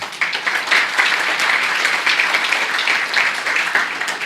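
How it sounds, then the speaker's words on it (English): Warm round of applause from a corporate audience honouring a sales team, dense even clapping lasting several seconds with no talk over it. "A round of applause, please."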